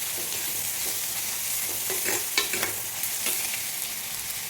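Onions sauté in a pan for a curd curry with tomato and green chili, a constant close sizzle broken by a few spoon scrapes and stirring taps, no talking.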